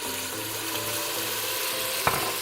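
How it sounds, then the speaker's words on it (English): Water hits a hot pan where bacon has been scorching on the bottom and sets off a steady, soft sizzling hiss, broken once by a brief clink near the end. "The bacon was burning a little bit on the bottom, but all you have to do is put some water in there"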